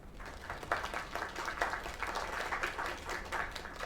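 Audience applause in the video game LAKE, a steady, fairly quiet wash of clapping sustained evenly throughout with no voices over it.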